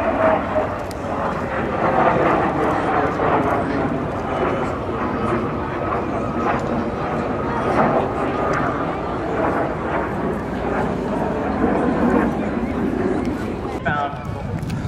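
A Hawker Hunter jet with a Rolls-Royce Avon axial-flow turbojet flies at the Shoreham Airshow 2013, its loud continuous roar rising and falling over about fifteen seconds while a commentator talks over it.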